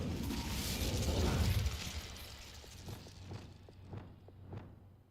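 In Hogwarts Legacy, an Incendio fire spell gives a loud, roaring whoosh for about two seconds. Scattered crackling pops and sharp snaps follow as it dies away, with no one speaking.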